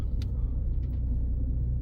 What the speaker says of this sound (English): You can hear the engine trying to push through the brakes.